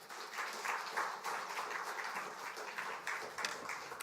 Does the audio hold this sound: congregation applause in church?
yes